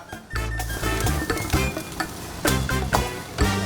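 Pad thai being stir-fried, with fried ingredients and dried shrimp tossed in a hot pan: steady loud sizzling broken by repeated scraping and clinking strokes of a utensil, close up and without talk.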